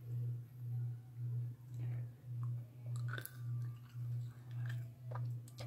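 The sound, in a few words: chewing food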